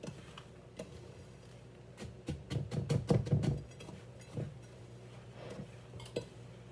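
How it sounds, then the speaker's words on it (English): A utensil stirs melted butter into graham cracker crumbs in a bowl, producing a short burst of rapid scraping and clinking taps midway, with scattered softer knocks before and after. "let's mix this up and see if it's enough butter"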